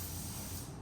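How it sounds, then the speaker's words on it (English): A Fuji Spray MPV8 paint spray gun sprays white pearl WA485B car paint with a loud, close, continuous hiss that holds steady throughout. "Needed 3 paint guns, so I pulled out the Fuji Spray MPV8."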